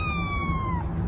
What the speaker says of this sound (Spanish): ¡Y el gatito gritando me ahogo!